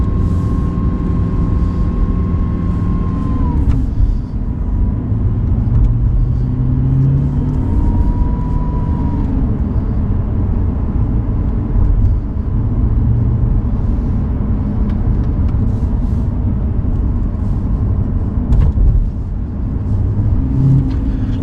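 An Audi R8 cruises slowly along a curving mountain road in Andorra, a loud continuous engine drone and road rumble heard from inside the car, with a couple of brief gliding engine-note shifts along the way.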